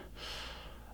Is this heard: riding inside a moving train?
no